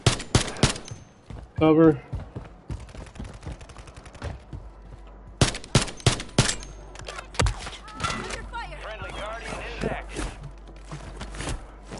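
Gunfire in the Call of Duty Warzone video game, with sharp repeated shots and bursts in clusters amid thuds and footsteps, while players talk over the action.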